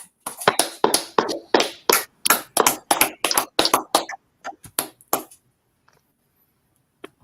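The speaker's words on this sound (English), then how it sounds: "Clap it up." Class audience at a scripture session claps in a run of sharp, distinct hand claps, roughly a dozen fairly close strikes in irregular rhythm that thin out and stop, leaving near silence with one faint late clap.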